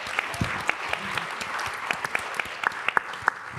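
A panel audience breaks into applause, a moderate spread of clapping with several crisp individual claps popping out near the front, fading slightly toward the end.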